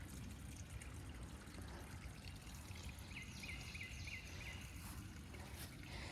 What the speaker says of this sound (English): some of this is draining off the road, going along.